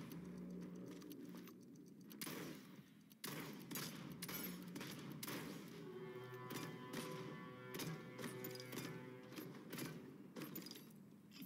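Rapid gunfire and turret shots in the battle-royale game Realm Royale, a dense clattering stream of shots with sharp bursts over a busy game soundscape, no talk.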